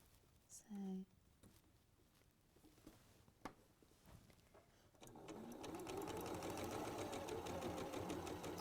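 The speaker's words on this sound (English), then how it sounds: "I'm sewing a 1/4 inch away from that line, and I'm going to chain piece them through one after the other" A sewing machine chain-pieces quilt fabric, sewing a quarter-inch seam; after a few faint taps and rustles it starts up and runs in a steady, close, continuous whir for the last few seconds.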